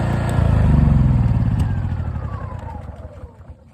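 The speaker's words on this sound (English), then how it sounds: "let's go ahead and shut it off here. And engine off is on this side." A WEN 6800 dual fuel generator running on propane from a 5-gallon bottle, its close, steady engine rumble abruptly cut off, then winding down into sputtering clatter and fading to quiet.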